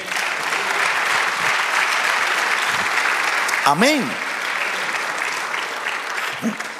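A church congregation applauds during a sermon, a steady wash of clapping that runs throughout, with a brief sung or spoken voice rising over it midway.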